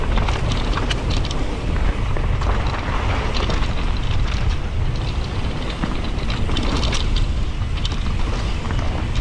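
Wind blowing hard at the Vallåsen bike park, a loud, continuous rushing roar buffeting close by throughout, with scattered rattles and clicks mixed in and no talking.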